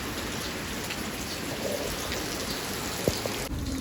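Steady rain patters down continuously at a moderate distance, with an occasional louder drop or tap standing out near the end.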